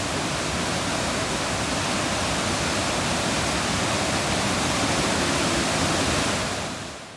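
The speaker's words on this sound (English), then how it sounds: "The water was rushing, hitting the rocks, and the sound was scary." Wild mountain stream on the Gosaikunda trek in Nepal's Langtang region, swollen with monsoon rain, rushing over rocks as a loud, dense, continuous roar of water close by, fading slightly at the very end.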